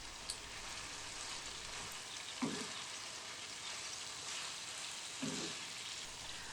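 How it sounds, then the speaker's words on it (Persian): Green beans frying with tomato paste in a pan, a steady close sizzle throughout with two soft scraping stirs partway through. "بعدم لوبیاها رو میریزیم و 3-4 دقیقه‌ای با مواد دیگه‌مون تفتش میدیم"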